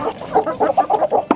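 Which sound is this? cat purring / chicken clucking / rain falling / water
chicken clucking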